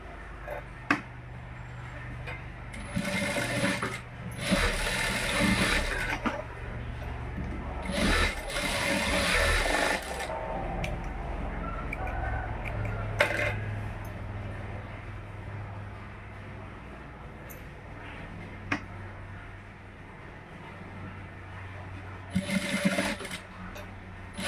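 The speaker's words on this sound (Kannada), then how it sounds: "ಇಲ್ಲಿ ಒಂದು 1/2 ಇಂಚಷ್ಟು ಸ್ಟಿಚ್ ಮಾಡ್ಕೊತಾ ಇದ್ದೀನಿ" A sewing machine stitches the shoulder seam of an embroidered blouse, whirring in several bursts of a few seconds each with quieter pauses between, close and fairly loud over a low background hum.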